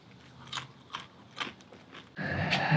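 Crunchy, salty blue corn tortilla chips being bitten and chewed close up, a handful of crisp crunches spaced apart, then a denser burst of louder munching near the end.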